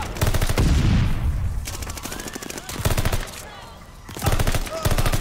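Bursts of automatic gunfire in the video game Call of Duty Vanguard, loud rapid rattling volleys separated by short pauses, with a whistling effect partway through and no speech over the shooting.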